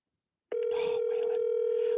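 Telephone dial tone that starts abruptly after half a second of silence and holds steady and clear, with faint background noise beneath it.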